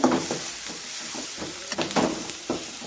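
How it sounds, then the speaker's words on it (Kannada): Chopped onions fry in a hot pan with a continuous sizzling hiss, broken by occasional scraping stirs. "ಈಗ ಈರುಳ್ಳಿ ಫ್ರೈ ಆಗ್ತಾಯಿದೆ."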